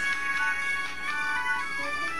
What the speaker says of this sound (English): This is Miriam's ringtone